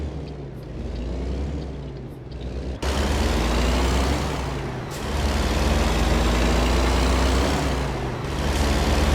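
A heavy truck in American Truck Simulator braking in city traffic: a loud, steady engine and road drone with a sharp burst partway through, then a hiss and continued rumbling, and no talking.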